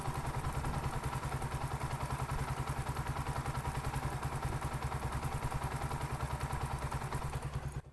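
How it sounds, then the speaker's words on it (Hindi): Rebuilt Honda NS125 motorcycle engine idling in a workshop, a steady, close, even throb that chugs on for several seconds and then cuts off near the end. "इंजन का साउंड एकदम ब्रांड न्यू लग रहा है"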